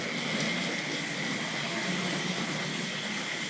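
A Tri-ang Hornby R.759 Albert Hall locomotive pulling Western coaches runs along model track, giving a steady close whirring hum throughout with no talk.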